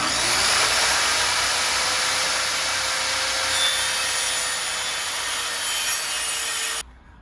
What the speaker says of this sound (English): Just gonna use a circular saw here, and I'm just gonna rip this down.